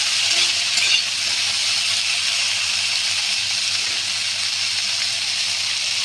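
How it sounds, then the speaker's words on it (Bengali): Chopped tomatoes with fried pumpkin, eggplant and potato sizzle in a pan for a drumstick chorchori, a steady loud hiss with faint stirring scrapes and no talk. "টমেটোটাও একটু ভেজে নিলাম কাঁচা গন্ধটা চলে যাওয়ার জন্য"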